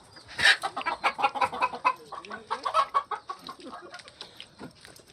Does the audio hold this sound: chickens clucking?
yes